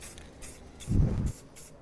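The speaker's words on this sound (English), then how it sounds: "see how light of a mist I'm spraying on there?" Can of black spray paint giving a short, light misting burst, a soft hiss that swells briefly and fades, fairly quiet with no voices.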